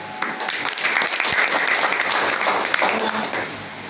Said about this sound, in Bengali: মিস্টার বিষ্ণু সুন্দর স্যারের জন্য জোরে হাততালি।